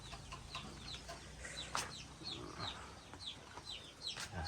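Several fighting cocks (gamecocks) in a backyard coop, clucking and calling in short repeated bursts over a steady low background hum, fairly close.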